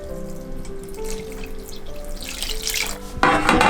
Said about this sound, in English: So I'm going to pour on some hot water to make into a stock.